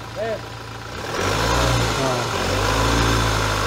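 A car engine idles and then revs up and holds at higher speed during a turbo actuator test with the MAP sensor unplugged, loud and close, with a brief voice at the start.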